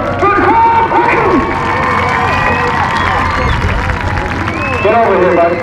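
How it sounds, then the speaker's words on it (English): A speedway crowd cheers and applauds a first-time mini stock feature winner, a loud, steady wash of shouts and clapping with an announcer's voice over it throughout. "Give him a big round of applause for Cole Quinton!"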